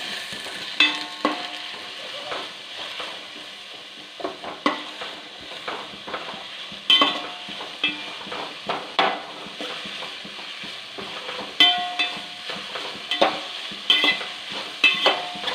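Four or five sliced onions sautéing in a pan for a chicken roast, a continuous sizzle punctuated by frequent scrapes and clinks of a spatula stirring them close up, with no voices.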